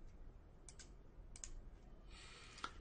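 A few soft keyboard key presses, scattered and faint, with a short burst of clicking near the end against a quiet background.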